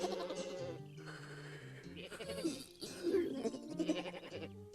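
Bleating cries from cartoon tree goats, several in a row, over a musical background; they sound like cartoon creatures rather than real livestock.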